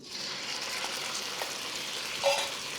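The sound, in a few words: protein searing in a pan for pad see ew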